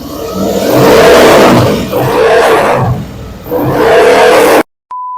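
A Harley-Davidson motorcycle fitted with new exhaust head pipes revs loudly up close in three long, throaty bursts with short dips between them, and then cuts off abruptly.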